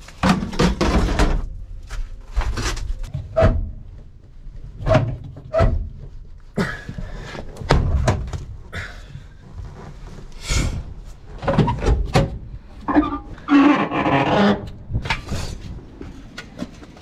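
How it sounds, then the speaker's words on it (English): Back door of a rusty, long-sitting junkyard Plymouth Fury being forced open, heard as a run of close metallic clunks, creaks and scrapes with brief silences between them. "Get this back door open."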